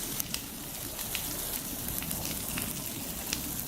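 An outdoor fire burning at night with falling rain and burning ash, giving a steady wash of crackling and hissing with scattered small pops close by, no voices.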